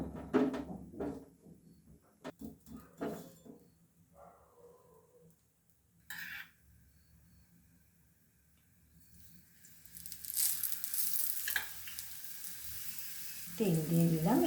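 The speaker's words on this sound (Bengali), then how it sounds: "ভেজে নিচ্ছি আমার মিক্স ভেজ পরোটাগুলো" Mixed vegetable parathas fry in oil in a pan over a medium flame, giving a quiet, intermittent sizzle. Soft clatters and taps from the pan break in, and the sizzle rises louder toward the end.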